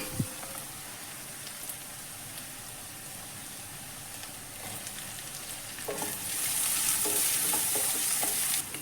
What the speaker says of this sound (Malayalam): അപ്പോൾ ക്യാപ്സിക്കവും വഴന്നു വന്നിട്ടുണ്ട്